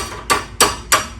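Three sharp metallic taps, evenly spaced, struck on a suspension link of a GR Corolla in a garage, each ringing briefly before fading, close and fairly loud with no talk over them.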